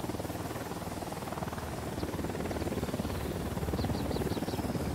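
A helicopter in the video game Ghost Recon Wildlands gives off a steady, loud, rapid rotor chop with a constant engine drone. It holds close and unbroken throughout, and faint high chirps sound near the end.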